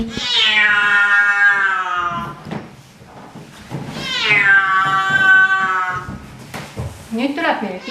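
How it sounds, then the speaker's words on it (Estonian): A house cat meows loudly and close twice in long, drawn-out wails, with brief knocking and shuffling between them. "Nüüd tuleb meil Kiisu."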